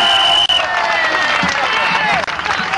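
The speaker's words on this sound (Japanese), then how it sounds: "あったかい拍手で迎えてやってほしいと思います" Audience at a live concert applauds warmly to welcome visiting musicians to the stage, a dense, steady wash of close clapping and crowd noise filling the whole moment without a break.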